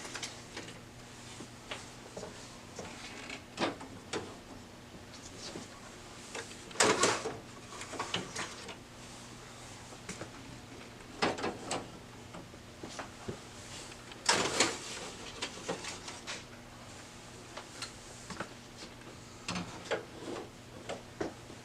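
Plastic toner cartridges being handled on an HP CM6040 color laser printer, giving scattered clicks, knocks and slides of varying loudness with quiet gaps, a low steady hum underneath and no talking.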